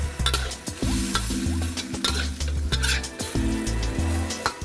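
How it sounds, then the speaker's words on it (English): Garlic deep frying in hot oil, a loud steady sizzle with crackling bursts and the clink of a utensil stirring in the pot, close and continuous throughout. "That's deep frying garlic."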